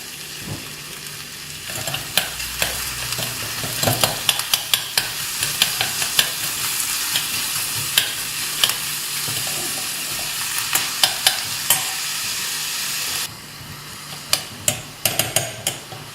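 Onions fry in a pan for Kerala-style grilled fish, a continuous sizzle broken by frequent sharp clacks of a spoon stirring and knocking against the pan, with no talking.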